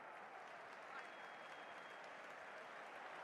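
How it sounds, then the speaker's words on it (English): Dense, steady stadium crowd roar and applause in the FC Mobile football game, a continuous wash of cheering with no breaks, holding at a constant level throughout. "The crowd certainly think so. Just listen to them."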